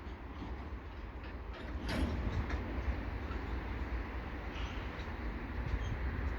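A westbound CN freight train slowing to a stop at the Turcot holding tracks gives a continuous low rail rumble with faint wheel clicks and a squeal, heard from a moderate distance with no talk.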